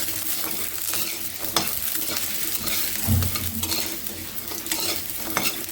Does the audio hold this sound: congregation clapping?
no